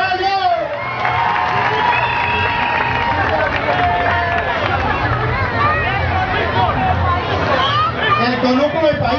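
A carnival crowd in Tacarigua fills the air with dense, steady cheering and shouting, voices overlapping in a loud, continuous hubbub close by, with people calling out throughout.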